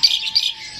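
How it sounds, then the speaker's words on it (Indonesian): Caged black-browed reed warbler (kerak basi) gives a quick run of bright, close chirps and tweets, loud and clear with no talk over it. "Burung spesial kerak basi alis hitam"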